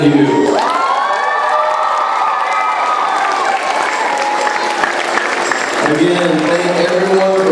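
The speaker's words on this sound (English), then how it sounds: "Huge round of applause for Mr. Donahue." An audience at an elementary school spring concert gives loud, sustained applause mixed with cheering, whoops and children shouting, with voices carrying over it.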